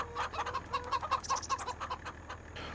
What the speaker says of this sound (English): We finally have chickens.